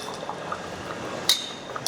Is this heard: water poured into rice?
yes